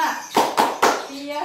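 A group claps in unison during a name-clapping game in a small-group session, three sharp, evenly spaced claps close by, with children's voices speaking around them.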